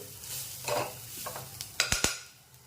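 Jaggery being stirred into a coconut modak filling in a pan, giving soft scraping stir strokes with a faint sizzle, then three sharp spoon knocks against the pan near the end.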